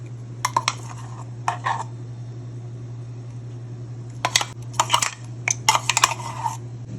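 Chutney is scraped into a bowl with a spoon: short clinking and scraping taps in small bursts over a steady low fan hum, close and fairly faint.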